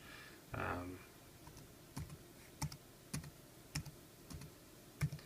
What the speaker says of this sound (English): So I've just keyed in my password